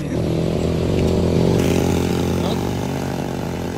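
An ATV engine drones loudly and steadily nearby at a race-day marathon in Siargao, with a rough motor rumble and faint talk underneath.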